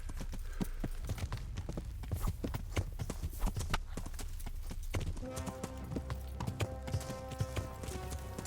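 A horse gallops in the medieval video game Kingdom Come: Deliverance, a fast, steady clip-clop of hooves close up, joined partway through by a tonal musical score.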